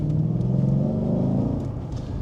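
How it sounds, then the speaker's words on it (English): A Lexus IS F engine hums at a low, steady rumble from inside the car while driving, continuous and even, with no speech. "driving my Lexus"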